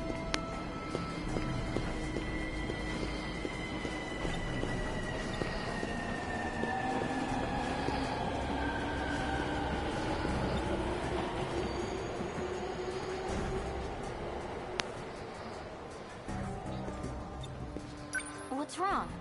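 Train running in the video game 13 Sentinels: Aegis Rim, a steady rumble with long rising and falling tonal whines throughout, heard under ongoing talk and other game sounds.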